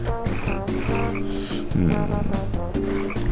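Frog croaks from the video game Tasty Blue repeat in a steady rhythm over layered game music, fairly loud and close, with a brief warbling burst midway.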